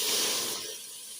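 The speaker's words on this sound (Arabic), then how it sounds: "هنبدا ننزل باللبن يا بنات" Milk poured into a hot pan for béchamel pasta, a loud broadband hissing rush that is strongest at the start and eases off over about a second, with no talking.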